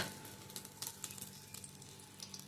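Oil sizzling in a hot pan just used to roast masala in a home kitchen, a faint steady crackle with scattered soft pops and no talking.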